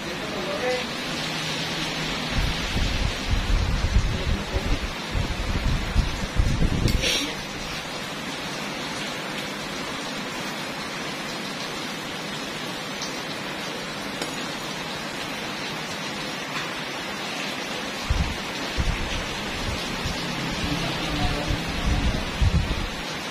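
Heavy rain pours in a loud, dense roar. Thunder rumbles in low swells at several points, and voices can be heard faintly beneath the downpour.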